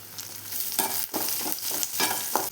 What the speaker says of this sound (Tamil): ஒரு 4 காஞ்ச மிளகாய் சேர்த்துக்கலாம். சேர்த்து வறுத்துக்கலாம்.